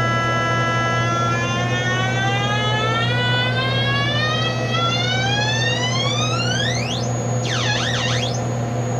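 A PDP-12 computer rigged as a crude theremin sounds a whistling electronic tone in its fourth speed, rising steadily in pitch over several seconds, then warbling in rapid wavering loops near the top, over a constant low hum.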